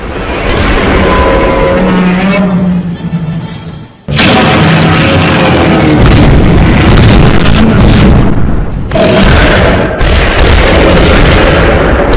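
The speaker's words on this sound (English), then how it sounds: "At 500 yards, the Panzers opened direct fire." German Panzer tanks fire their main guns at Godzilla, heavy booming blasts and rumbling explosions filling a loud dense battle soundscape, with a brief drop near the fourth second and no talk.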